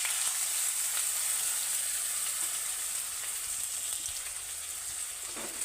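Spice paste with ginger paste and soaked ground spices sizzles steadily in hot oil in a pan while being sautéed for doi potol, a vegetarian pointed gourd curry, a continuous close frying hiss with no talk.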